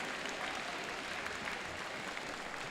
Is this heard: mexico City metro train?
no